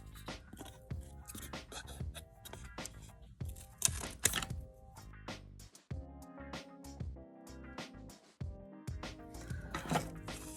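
Scissors snip diagonally through craft material for a DIY 3D cross, producing a run of close, crisp cuts and rustles in uneven bursts, fairly quiet, with no talking.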